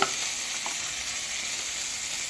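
Coriander leaves and chopped chillies sizzle steadily in a hot pan while a spicy new-potato dal with egg is cooked, giving a continuous close frying hiss with no talking.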